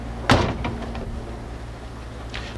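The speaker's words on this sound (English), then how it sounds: "Check the operation of the doors. Pop right open." A door on a 1967 Chevrolet Chevelle SS396 convertible opens with a sharp latch clunk, followed by a few softer knocks and a faint later thud, heard close with no talking.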